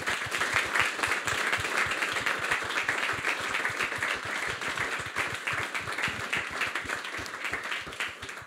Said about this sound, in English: can we have a bit of a round of applause